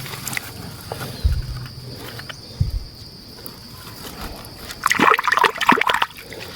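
A small fish is rinsed under running water, with a burst of splashing and trickling near the end after quieter dribbles and faint background noise.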